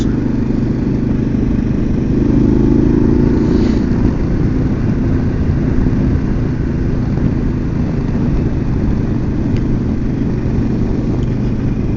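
Harley-Davidson Pan America Special motorcycle cruising on the road, a steady engine drone mixed with constant road and wind rush, holding even and fairly loud throughout with a slight swell early on.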